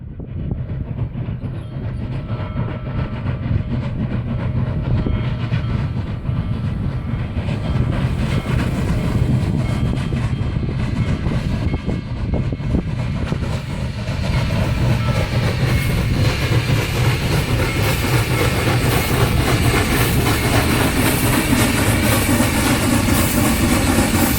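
Union Pacific's Big Boy 4014 steam locomotive rolls out of a desert crossroads in the Mojave National Preserve. A loud, steady rumble of the engine and train builds, with rhythmic clatter from the rail cars, and no talk over it.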